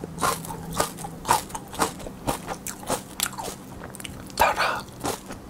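Crisp, crunchy bites into raw mini paprika sweet peppers, a rapid series of close, sharp crunches with chewing in between and no talking.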